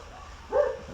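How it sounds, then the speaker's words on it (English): Dogs barking outdoors, a single muffled bark-like burst midway through a quiet room hum, distant and brief. "As you can hear the dogs outside conversating with each other."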